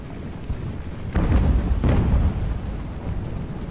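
Naval cannons fire in the age-of-sail video game Ultimate Admiral, with two heavy booms about a second apart over a continuous low rumble of battle, no speech.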